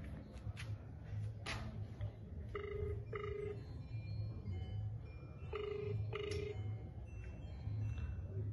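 A telephone rings faintly in a room, two short double-ring bursts a few seconds apart over a low background rumble.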